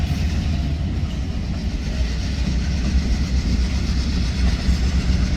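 A train rumbles along the tracks, a low steady roll of engine and wheels that holds at a constant level with slight swells and no voices.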